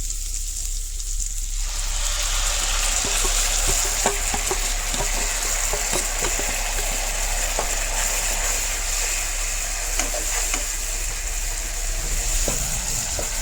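Chopped tomatoes hitting hot oil with spice paste for a rich gravy: a sudden loud sizzle that settles into a steady frying hiss, with intermittent scraping stirs and no talk.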